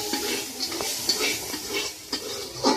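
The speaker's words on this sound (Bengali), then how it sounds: "এইভাবে নাড়াইয়ে তেলটা মিশিয়ে" Chicken being stirred in oil in a pan, with a soft steady sizzle under scattered scrapes and clinks of a utensil against the pan, fairly close and moderately loud.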